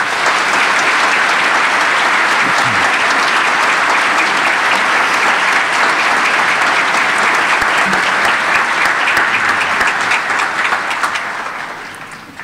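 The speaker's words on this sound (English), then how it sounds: "Let's give them a round of applause as well as they leave the hall" A crowd in a university graduation hall applauds steadily as a music ensemble leaves after the ceremony, dense and sustained throughout before easing slightly at the end.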